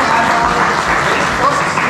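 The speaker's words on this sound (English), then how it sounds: "You can clap for him." Audience clapping at a university music video launch event, a steady wash of many hands clapping throughout, fairly loud and continuous with no pauses.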